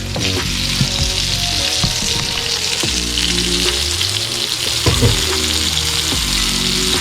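Licious seekh kebabs fry in a pan at home, a loud, dense close sizzle with occasional crackles and soft bumps as they are turned, steady for several seconds without speech.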